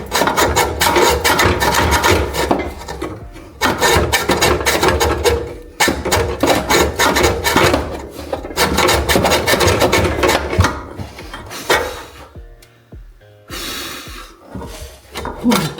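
A hacksaw cuts through a metal car part during a Volkswagen Golf GTI restoration, making loud, rapid back-and-forth rasping strokes in bursts with brief pauses between them, close to the listener.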